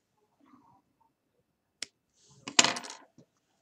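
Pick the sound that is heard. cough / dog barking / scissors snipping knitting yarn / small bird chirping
scissors snipping knitting yarn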